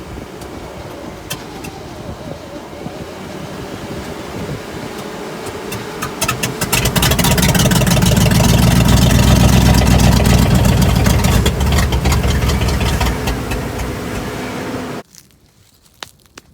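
A 1962 C60 truck engine, just revived after 25 years, catches and runs, a loud steady rumble that builds midway, holds for several seconds, then cuts off abruptly.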